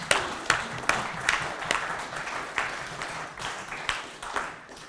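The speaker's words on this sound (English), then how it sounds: "Give yourself a round of applause." Audience applause at a political rally, a crowd clapping steadily for several seconds with sharp individual claps standing out over a moderately distant wash of hands.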